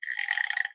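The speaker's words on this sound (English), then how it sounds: "kids are burping" Children burp once in a single brief, raspy belch lasting under a second, close and fairly loud with no talk.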